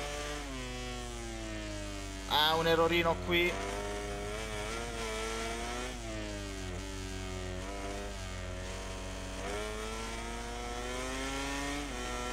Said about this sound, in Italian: la Honda è in assoluto il motore che emette il suono più alto